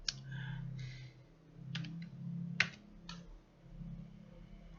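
Clicks from a computer keyboard as someone types, a handful of scattered light keystrokes close by over a low steady background hum.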